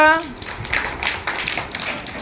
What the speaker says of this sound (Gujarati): તાળીઓ પાડ દો.